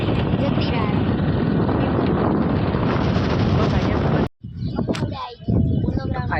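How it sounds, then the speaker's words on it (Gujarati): Strong evening wind at an open ground in Vadodara, roaring across the microphone as loud buffeting for several seconds, then cutting out briefly before gusting back in short bursts. "અત્યારે સાંજે લગભગ મસ્ત પવન આવે છે અહીંયા"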